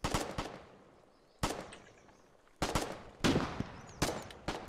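Gunfire lands in Foxhole as several sharp, loud shots and short bursts arrive in separate clusters, each followed by a decaying echo against a quiet background.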